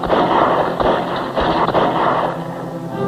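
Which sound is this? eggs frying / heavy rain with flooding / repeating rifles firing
repeating rifles firing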